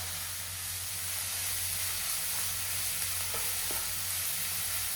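Sliced onions with a pinch of salt fry in a pan for a Kerala cauliflower curry, a continuous close hiss and sizzle with a couple of soft stirring clinks, no talk.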